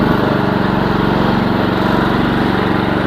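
A small Briggs & Stratton engine on a Chinese mini excavator runs with a loud, steady, close drone and an even pulsing throb, with no voices.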